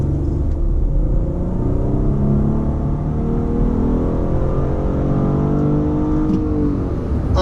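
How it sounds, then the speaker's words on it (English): A 2016 Infiniti QX60 AWD with a 3.5-liter naturally aspirated V6 and CVT accelerates, heard from inside as a loud, steady engine drone. Its pitch gradually rises over a road rumble. "so I'll give it a little acceleration here."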